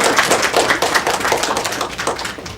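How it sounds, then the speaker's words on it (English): Audience applause at a piano recital, a steady patter of many hands clapping close by, fairly loud and continuous, gradually thinning toward the end. "Give them another round of applause."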